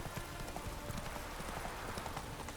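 Horse hooves gallop in The Witcher 3: Wild Hunt as a rapid, steady clip-clop rhythm that stays close and loud, over a faint game ambience.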